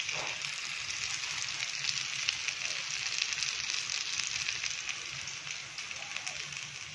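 Kothimbir vadi, coriander fritters, shallow-fry in a little oil with a steady, soft sizzle and fine crackling that runs evenly throughout at low volume.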